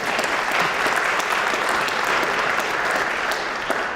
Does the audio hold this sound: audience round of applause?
yes